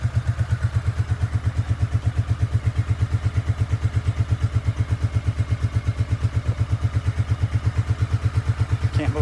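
A Honda Shadow Sabre 1100 motorcycle engine idling with the choke on, a steady, close, rhythmic low thumping pulse that holds even throughout, with a faint clatter above it.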